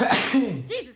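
A woman sneezes once, close and sharp, amid casual talk, with other voices speaking right before and after.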